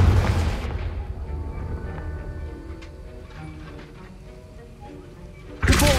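A blasting spell in a video game bursts with a loud explosive boom at the start, fades into a ringing, crackling tail, then a second sharp blast hits near the end.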